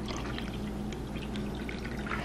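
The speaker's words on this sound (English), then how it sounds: "I'm going to pour some of this" Water pours steadily from an Aquafina plastic bottle into a container, a continuous close-up splashing gurgle lasting the whole moment with no voices.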